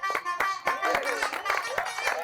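Several people clap in quick, uneven bursts during a timed clapping challenge on a television game show, while excited voices call out over the applause.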